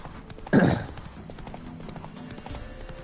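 Geralt's horse Roach from the video game The Witcher 3 gives a single loud hoof-and-snort burst near the start, then continues as a softer rhythmic clip-clop beneath game noise.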